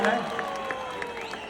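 At the 2024 Airoli Sector 17 dahi handi, a crowd claps and applauds a human pyramid in short bursts under a commentator's talk.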